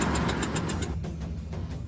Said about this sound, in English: Engine's gone, back on 3 cylinders.